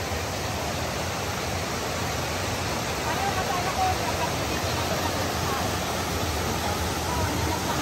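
Steady roar of water pouring at Taytay Falls, a constant broadband rush filling the scene without pause, with faint crowd babble mixed underneath.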